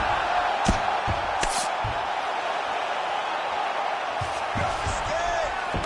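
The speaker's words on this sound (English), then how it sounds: "huge pop from the crowd as the fighters get back up to their feet" Crowd noise in a UFC fighting video game simulation of Muhammad vs Della Maddalena at UFC 315, a steady arena roar with brief swells of cheering and a few thuds, running under commentary throughout.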